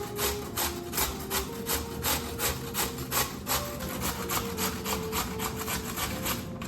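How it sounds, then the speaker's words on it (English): Potatoes grated by hand on a grater, a fast, even rhythm of rasping strokes, about two per second, scraping close and steady without any talking. "I'm grating some potatoes in there."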